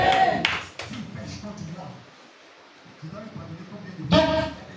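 A church congregation at a worship service claps to acclaim Jesus, scattered bursts of hand claps near the start and a louder round near the end, with a voice speaking between them.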